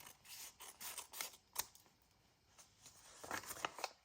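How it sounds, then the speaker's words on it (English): Scissors snip through paper while trimming a flap off a grungy vintage junk journal page, a series of close, crisp cuts clustered in short bursts with quieter pauses between them. "We're going to cut this part off completely."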